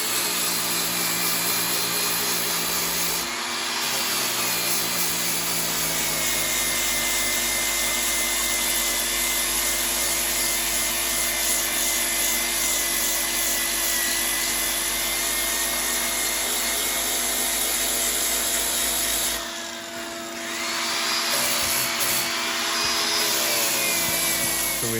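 A power grinder cuts out the foam of a Wave Blaster jet ski seat, a loud steady high-pitched whine running continuously for the whole stretch with a couple of brief dips in pitch and load.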